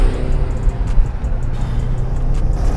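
A sports car pulls hard from a standing start, its engine loud and steady with a rising rush as the turbo comes on, close and continuous, with no voices.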